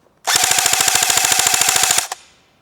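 An AGM MP40 airsoft gun fires a rapid full-auto burst of about twenty evenly spaced, loud, close snapping shots over roughly two seconds, then stops abruptly with a brief rattle.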